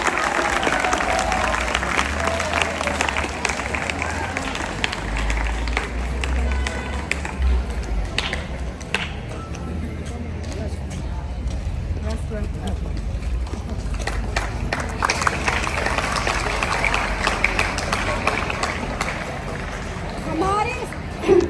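Children and staff at a school welcoming ceremony applaud guests being garlanded on stage, a long sustained burst of crowd clapping with voices and announcements over it, fading and swelling across the stretch.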